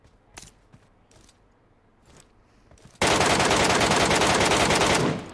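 Rapid automatic fire from the MK6X rifle in the mobile shooter BGMI, a loud sustained burst of shots lasting about two seconds after a few faint, sparse clicks and quiet game sounds.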